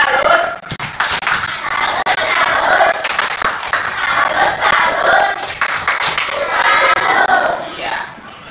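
Schoolchildren in a classroom doing the rhythmic "tepuk salut" clapping chant, bursts of group clapping mixed with loud shouted voices that rise and fall in waves.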